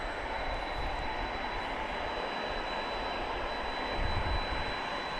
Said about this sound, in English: here's a 767. This came in from Orlando.